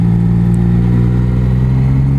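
Three-cylinder 900 cc motorcycle engine under way, a loud, steady mid-range drone holding close and constant through a short stretch of riding with no talk.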